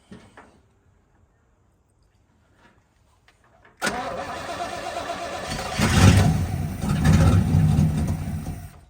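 A 1964 Chevrolet El Camino engine starting before fuel has fully drawn up: near silence, then an abrupt loud catch into a rough, rising idle that swells and stays running close by.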